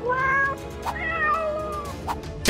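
A cat meows in a few drawn-out, wavering cries, close and clear, with a couple of soft knocks in between.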